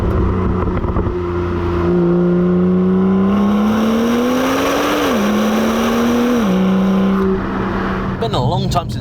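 A BMW M2 engine on its stock exhaust, loud and close, droning with a steady sustained note that climbs gradually, dips, climbs again, then drops back before a short burst of clatter at the end.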